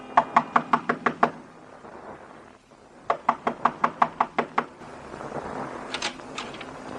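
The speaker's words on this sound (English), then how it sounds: "Knock on the door." Knocking on a door in an old radio drama: two crisp bursts of about seven rapid knuckle raps each, separated by a short pause, followed by faint softer taps, close and clear with no voices.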